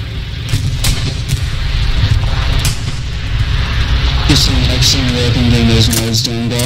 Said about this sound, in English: Artillery coming in as well.